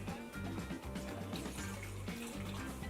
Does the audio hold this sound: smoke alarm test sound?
no